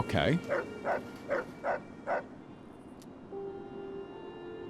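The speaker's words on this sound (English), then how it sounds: "That's a dog." A dog in the Fallout video game gives about six evenly spaced barks at moderate distance, followed by a steady electronic tone, while one short spoken word is heard.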